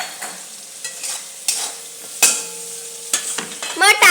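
A spoon stirs and scrapes a pan of food frying with turmeric and salt, producing intermittent bursts of clatter and sizzle with quiet gaps between them, and a sharper scraping flurry near the end.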